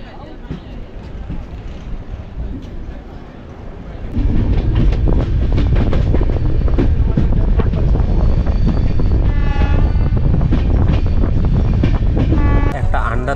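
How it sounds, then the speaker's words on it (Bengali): The 13005 Amritsar Mail pulls out of platform 2, wheels clattering in a steady clickety-clack rhythm that swells loud and close after a quieter start, with rushing wind noise throughout. "2 মিনিট স্টপেজ দিয়ে আমাদের ট্রেন এই স্টেশনের 2 নম্বর প্ল্যাটফর্ম থেকে ডিপার্চার হয়ে গেল।"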